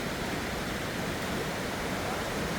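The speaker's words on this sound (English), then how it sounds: "you have the sound of the water going" Steady, broadband rush of water flowing in a stream or waterfall in a forested Alaskan nature area near a salmon ladder, continuous and even throughout with no voices.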